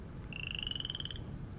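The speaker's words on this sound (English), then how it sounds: "I could clearly hear that irritating frog croaking away at some corner of the bungalow" A frog croaking at night near a bungalow, one rapid pulsing trill lasting about a second, close and clear over quiet background hum.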